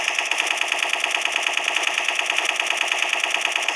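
Rapid automatic gunfire from the video game Special Force 2 rattles in a continuous, evenly spaced burst, loud and dense, with no voices over it.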